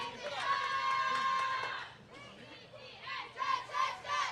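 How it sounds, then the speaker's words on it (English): A spectator at a bowling tournament shouts and cheers for Valparaiso. There is a long held call, a short pause, and then several shorter cheering bursts over faint hall murmur. "Glad to see Barbara in there cheering for Valparaiso"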